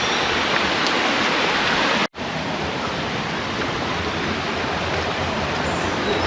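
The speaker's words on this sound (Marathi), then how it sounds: "हा अम्ब्रेला फॉल आहे" Umbrella Falls at Bhandardara, a waterfall below the dam in the monsoon season, gives a steady, dense roar of rushing water. It holds level throughout, with one brief dropout near the middle and no voices.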